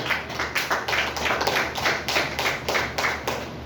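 A church congregation claps together in steady, rapid unison to acclaim the Lord during a deliverance service, the dense rhythmic claps loud and continuous throughout.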